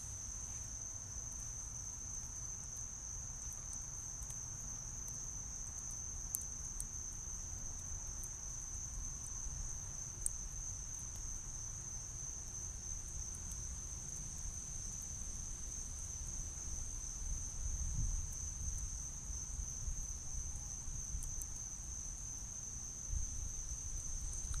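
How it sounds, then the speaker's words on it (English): A steady chorus of crickets trills outdoors at an evening bonfire, constant and unbroken over a low crackling rumble, with a few faint clicks and no voices. "And crickets are already out."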